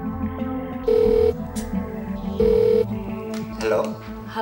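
A house telephone rings in two long, steady electronic trills with short gaps between them, heard over background music and light dialogue.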